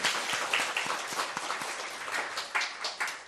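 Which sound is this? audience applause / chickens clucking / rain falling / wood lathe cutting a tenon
audience applause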